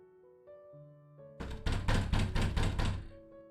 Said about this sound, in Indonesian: Terdengar suara gedoran pintu kamar.